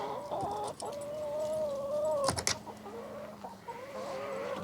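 Chickens in a garden chicken run cluck and murmur softly at close range, with a few louder squawks and a brief flurry midway, no one talking.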